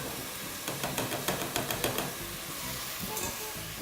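Dry rice grains poured into a pot of boiling water seasoned with salt and a little oil, giving a fast run of light rattling ticks and patters over a steady bubbling hiss, fairly close and moderately quiet.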